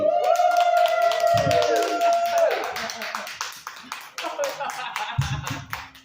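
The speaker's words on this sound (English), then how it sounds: "Clap all the way up to the stage" Rhythmic clapping from an open mic audience keeps time as someone walks to the stage, with a voice speaking over the first part before the claps thin and scatter.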